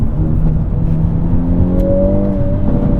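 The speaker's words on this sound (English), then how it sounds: "The sound of the Hyundai World Rally car, which is used in racing." A 2023 Hyundai Elantra N plays its piped-in synthetic engine sound in rally car mode: a loud, steady close drone that climbs in pitch toward the end, with no talking.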